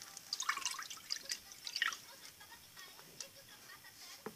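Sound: water being poured

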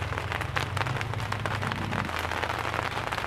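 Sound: rain pattering on a greenhouse roof

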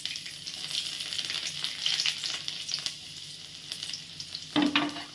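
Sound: minced garlic sizzling as it fries in oil

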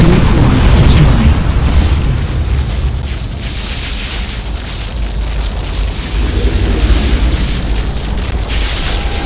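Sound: core exploding in video game Unreal Tournament 3

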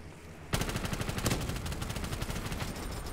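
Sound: nail gun firing in Black Ops 3 zombies video game

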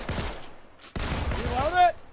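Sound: gunfire in Fortnite video game

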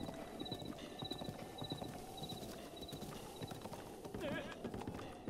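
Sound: horse hooves galloping in Zelda Breath of the Wild video game

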